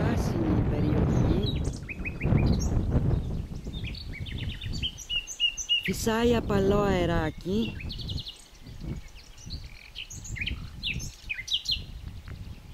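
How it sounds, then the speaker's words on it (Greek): Small songbirds chirp and trill in a lush green countryside setting, nightingale song rising in bright repeated phrases, loudest in a burst midway, while a person talks over much of it and a light breeze brushes the microphone. "Και ακούμε και τα κελαϊδίσματα των πουλιών."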